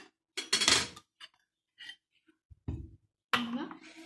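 A metal spoon clinks and scrapes against a jar of apricot jam in a home kitchen, a few short, close taps separated by quiet pauses.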